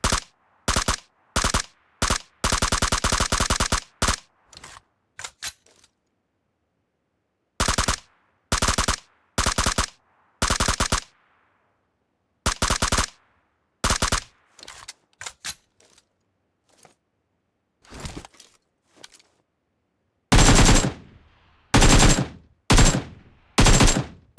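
Scoped rifle gunfire from the mobile game BGMI, heard as bursts of sharp, loud shots in rapid clusters separated by pauses, with a few isolated single shots and a dense final volley.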